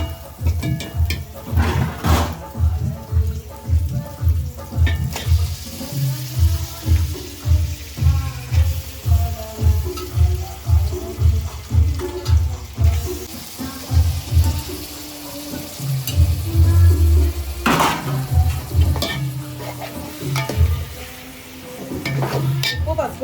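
Chicken is added to a pan and fried for a chicken curry, with a steady sizzle under rhythmic scraping and stirring, louder bursts of frying midway, and occasional clinks of cookware, close and continuous.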